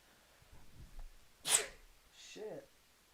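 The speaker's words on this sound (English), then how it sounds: "Sorry, I had to sneeze." One sharp, loud sneeze bursts out close to the mic midway through, preceded by faint breathing and followed by a brief sniffing exhale, with quiet room noise behind.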